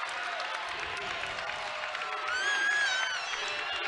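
Basketball crowd in a college arena during a Utah Tech vs. Weber State game, applauding and cheering in a steady roar that swells louder near the end, with a shrill whistle rising over it.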